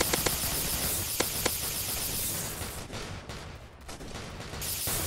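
Roblox Zombie Attack weapon fire in gameplay, a noisy, crackling barrage of rapid shots with a few sharper pops early on, continuous and fairly loud over a hissing background.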